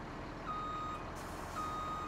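An old truck in Farming Simulator 17 reversing, its steady repeating backup beep sounding over a constant engine drone, fairly faint and with no talking.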